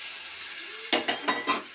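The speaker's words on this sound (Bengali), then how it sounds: "জল দিয়ে এটাকে ভালো করে একটু নাড়িয়ে নেব" A spoon scrapes through a spiced potato and drumstick mixture in a pan just after water is added: a low sizzle, then four quick, close scraping strokes in an even rhythm, with no voices.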